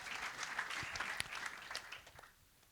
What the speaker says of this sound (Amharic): በጌታ በኢየሱስ ስም አጨብጭቡ።